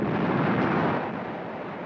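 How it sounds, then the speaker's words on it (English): Artillery pounds Grozny in Chechnya, heard as a loud, heavy rumbling boom that rolls on and slowly fades, with no separate distinct blasts and nobody speaking. "Grozny was pounded by artillery in the hours before the attack"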